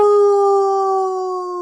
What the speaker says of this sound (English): Hey, there's my coyote.